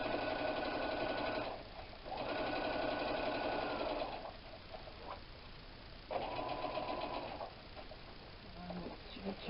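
Sewing machine stitching a tote bag, running in three bursts of steady whirring, each lasting about two seconds, with quiet gaps between them.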